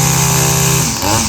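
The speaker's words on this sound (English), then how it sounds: "Then we got a lawnmower going on over here." A lawnmower engine runs nearby outdoors, a loud steady droning hum that shifts pitch partway through the short stretch.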